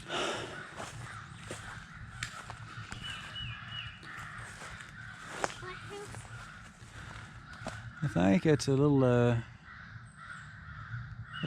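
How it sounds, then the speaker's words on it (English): A crow caws repeatedly and harshly nearby, a loud burst of calls near the end, while someone talks over outdoor background noise. "Crow's over there having a fit over something."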